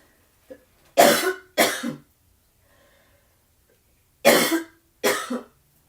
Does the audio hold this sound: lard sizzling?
no